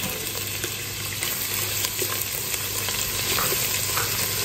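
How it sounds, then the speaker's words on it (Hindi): Ginger garlic paste fries in oil left from frying onions for mutton biryani, producing a dense, even sizzle with faint stirring clicks and no speech over it. "उसी ऑयल में मैं अदरक लहसुन का पेस्ट शामिल करूंगी"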